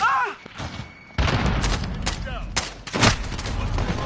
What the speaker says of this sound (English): Throw a grenade. Got a kill. Grenade out.